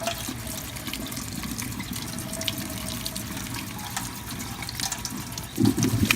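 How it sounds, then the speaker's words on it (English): Cool tap water runs into a sink over nopales cactus pads being rinsed, a steady close splashing hiss with a few louder splashes near the end. "I'm going to rinse them off with some cool water."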